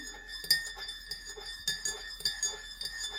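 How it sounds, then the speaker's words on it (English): A spoon clinks against the inside of a cup of freshly brewed British tea while stirring before milk is added, giving a series of bright, close, delicate glassy taps at an uneven rhythm. "Give it a good stir."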